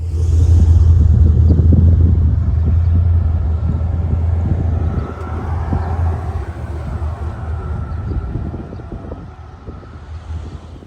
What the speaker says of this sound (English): Let's go for our first drive of the new truck.